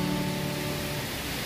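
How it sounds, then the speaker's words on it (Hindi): Dense, steady hiss of heavy rain pouring down, with a faint tonal hum fading out early on. "कितनी भयंकर बारिश हो रही है।"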